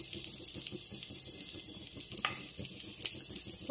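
Ginger and garlic pieces frying in oil in a pan over low heat, a steady close crackling sizzle with scattered sharp pops, with no talk.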